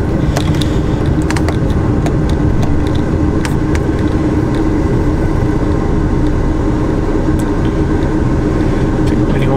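A truck with its main lights on rumbles steadily through a village, the engine drone loud and constant, with faint clicks and rattles on top and no talk.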